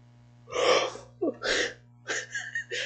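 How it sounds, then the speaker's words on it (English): A person yawns aloud in a few drawn-out breathy bursts, close and clear, with steady electrical hum underneath. "I didn't mean to yawn like that."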